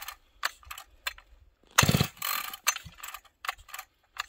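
A chainsaw's recoil starter is yanked repeatedly at -25 degrees, giving several short ratcheting pulls with quiet gaps and one longer, louder rasping pull near the middle.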